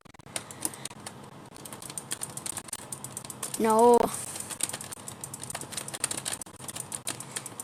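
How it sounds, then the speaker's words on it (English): Rapid, frantic typing on a computer keyboard during a Roblox Pick a Side game, a dense run of close clicks that continues steadily under a player's talk. "I'm like going crazy with my keyboard right now."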